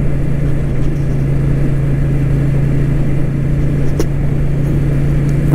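A car driving along a road on the way to a country pub, with a steady, loud engine hum and road rumble running unbroken throughout, plus a faint click near the middle.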